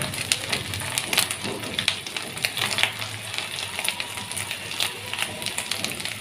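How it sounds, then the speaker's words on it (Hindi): Beef koftas shallow frying in hot oil in a pan, giving a steady, dense sizzle with crackling pops that carries on without a break throughout. "पैन में मैंने ऑयल को गर्म कर लिया है। अब 1 बाय 1 इसमें हम लोग कोफ्ते रखते जाएंगे।"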